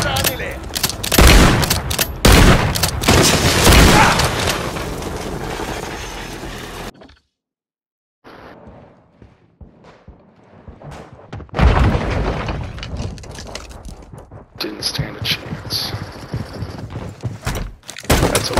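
Dense bursts of sniper and other gunfire in Modern Warfare 3, loud and close, with sharp cracks and clattering volleys, a brief silent gap midway, then more shots and battle noise.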